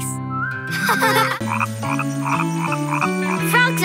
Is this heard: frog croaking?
yes